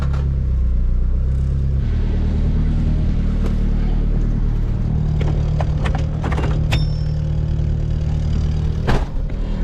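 A right-hand-drive Honda Civic wagon engine rumbles loud and close, with a low steady idle that shifts pitch a couple of times as it revs, a few sharp clicks and clatters breaking through near the end.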